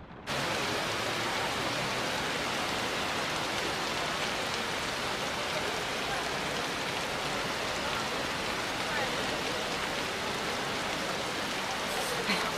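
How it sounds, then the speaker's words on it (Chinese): Heavy rain pours down in a steady, dense roar of broadband hiss that starts abruptly and holds at an even level for the whole stretch, with no voices. "雨下的还挺大。"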